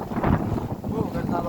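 Wind buffets the microphone beside the water where crab pots are set, a loud gusty rumble that pulses unevenly and partly covers a speaking voice.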